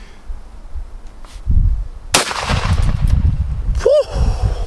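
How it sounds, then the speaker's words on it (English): A 10 gauge Beretta shotgun fires a single blast of bird shot at a bowling ball outdoors, one sharp loud report with a decaying echo and a brief whistling ring afterward. "So let's grab the old Beretta here, and we probably just need to shoot one."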